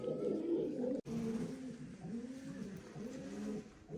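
Pigeons coo close by in a loft, rolling low throaty calls repeating one after another, with one white-eyed female among the flock.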